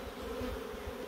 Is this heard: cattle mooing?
no